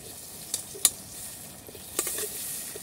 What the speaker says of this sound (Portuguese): Dá uma dourada aqui nessa cebola, né?